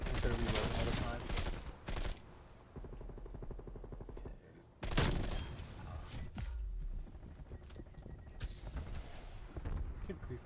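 Bullfrog submachine gun in the game Black Ops Cold War, played on the Nuketown map, fires in dense rapid bursts with booming impacts, loud and close, under a player's talking.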